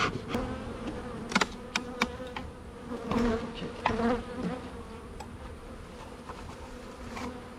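Honeybees buzz around a hive in the Saône marsh, a thin, steady drone with individual bees zipping close past at intervals, sometimes louder and sometimes fading.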